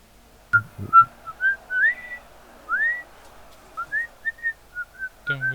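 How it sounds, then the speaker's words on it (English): A person whistles a string of short rising and falling notes in a quiet game setting, roughly a dozen chirpy tones spread over several seconds, close and fairly clear, with a few low thumps at the start and end. "Don't whistle."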